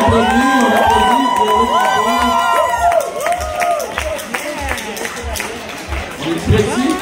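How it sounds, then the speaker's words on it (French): An audience at a catered event claps and cheers, with whoops and children's shouts over steady rhythmic background music, and lively voices mixed in. "on applaudit, on applaudit"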